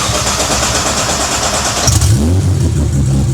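A Nissan GT-R with a loud fuel pump runs steadily, giving a constant close mechanical whir and hum that holds a little over three seconds, with a deeper engine rumble rising and joining partway through.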